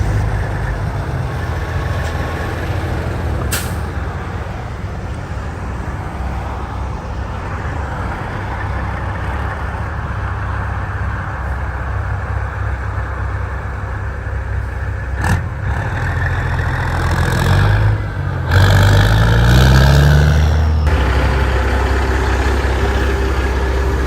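A semi pull truck's diesel engine idles with a deep, steady, loud rumble, alone, swelling briefly into a heavier rev near the end.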